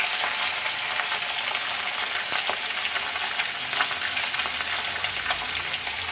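Small chela fish fry in a pan over a low flame, making a dense, continuous crackling sizzle that stays close and even throughout, with no voices.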